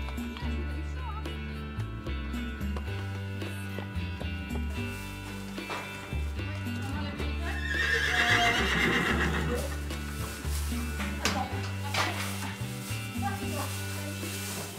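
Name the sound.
horses being unloaded at a refuge, neighing and hooves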